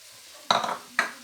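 Green chillies drop into a hot pan of frying spices, giving two sharp sizzling bursts half a second apart, close and clear with no talking.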